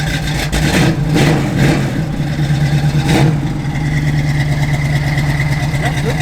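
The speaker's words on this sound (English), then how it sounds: "Give it a little rev, Mike." A 1969 Chevrolet Camaro SS V8 rumbles at a steady idle, with a few quick blips of the throttle near the start before it settles back into a deep, even burble, close and loud.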